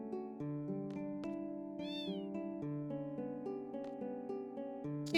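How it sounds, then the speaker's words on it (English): A cat in the video game Final Fantasy VIII meows once, a clear close mewing over a continuous melodic background music track, with no talk. "Kitty cat!"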